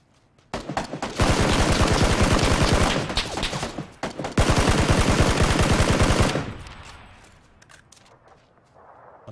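Rapid gunfire in the battle royale game PUBG: two loud sustained bursts of fast repeated shots with a short break between them, then fading to quiet.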